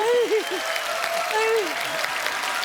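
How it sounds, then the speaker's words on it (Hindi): Studio audience applause on a Hindi comedy talk show, dense clapping under voices and music, with a loud, sliding vocal exclamation at the start. "जोरदार तालियां नानी की आंखों के लिए।"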